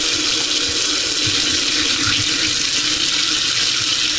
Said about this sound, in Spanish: soltamos agua y, aparte de hacer circular esta agua caliente, la dejamos circular unos instantes hasta que la tubería empiece a llenarse